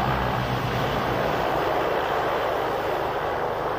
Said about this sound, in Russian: Спустя 2 часа пути самолет успешно приземляется в Александровске-Сахалинском.